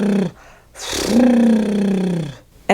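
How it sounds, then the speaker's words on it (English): Someone blows air through closed lips in a lip trill, one sustained buzzing flutter lasting over a second with a short gust before it, close and fairly loud with no talking. "A lip trill is when you close your lips and blow air through them, like this."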